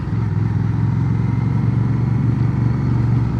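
An 1100cc Rebel cruiser motorcycle at a festival, its engine running as a steady low rumble throughout, close and fairly loud with no talk over it.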